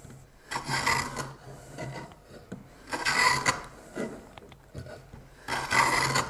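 Wooden hand plane (Raubank jointer) pushed along an uneven board, making three long raspy scraping strokes with short pauses between, close and moderately loud with no talking.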